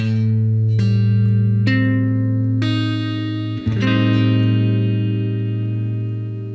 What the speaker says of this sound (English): the root chord of the Locrian mode sounds like this